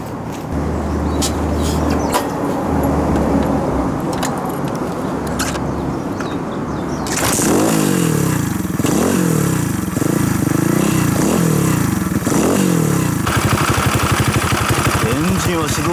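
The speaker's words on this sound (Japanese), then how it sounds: "それではエンジンをかけてみたいと思います。" A Monkey-type horizontal engine swapped into a Choinori motorbike idles unevenly at first, then catches and runs louder with throttle blips and revving pulses, close by, with a person talking over it.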